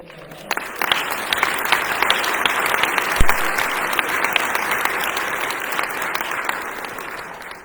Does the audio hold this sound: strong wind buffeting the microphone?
no